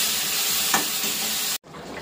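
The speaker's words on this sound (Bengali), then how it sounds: "এখন একটু মশলাটা আবার ভালো করে কষাতে হবে, পেঁয়াজ রসুন কাঁচা গন্ধটা যাবে, ভালো করে কষিয়ে নিই।" Onion-garlic spice paste sautéing in a pan, a brief close hiss and sizzle with a stirring scrape, cut by a short gap near the end.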